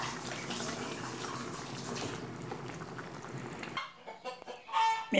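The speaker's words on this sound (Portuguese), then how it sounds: "faz tempo que eu tô esperando essas galinhas parar de cantar. E o galo, mas não para, não." Several chickens cluck and a rooster crows in an outdoor yard, a busy layered din that fills the first part, then thins into scattered clucks and calls near the end.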